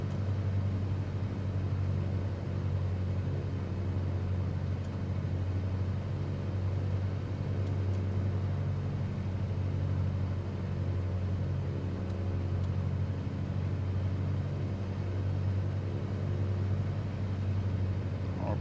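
Steady, droning propeller-engine hum of a Cessna Skylane 182 held at 1700 RPM during a run-up in Microsoft Flight Simulator, an even low rumble sustained without change and heard alone.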